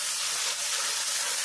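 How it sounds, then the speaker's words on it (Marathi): Spices, garlic, cumin and grated coconut hitting hot oil for a tempering while cooking a village-style brinjal curry, giving a steady, loud, continuous hiss with no pauses. "हे टाकली फोडणी."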